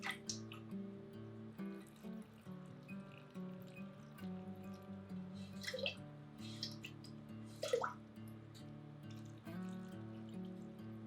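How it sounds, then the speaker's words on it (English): Brine poured into a jar of cut-up peppers for fermenting or pickling, a soft continuous trickle with small splashes and drips, fairly quiet against a low background hum. "So now we're just gonna top it off with our brine."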